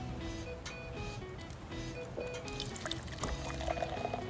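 Beer poured into a cup outdoors at a winter hammock campsite in Wakayama, with a close, gentle liquid splash and gurgle that runs steadily and grows slightly fuller toward the end, with no voices.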